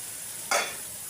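Bottle gourd and prawns sautéing in a pan: a faint background hiss, then a sudden short burst of sizzling and stirring that quickly fades back to a low simmer.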